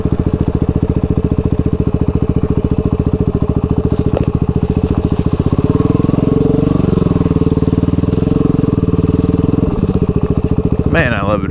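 An adventure motorcycle rides through an abandoned, toxic town near Niagara Falls, its engine a loud, close, rapid pulsing thrum that swells and churns over rough ground partway through.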